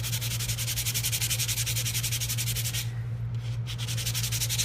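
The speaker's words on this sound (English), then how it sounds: "Once this is dry, you just take your sanding block" Rhythmic back-and-forth scraping of a very fine-grit sanding block rubbing dried paint off a surface, quick even strokes close up, pausing briefly near the end.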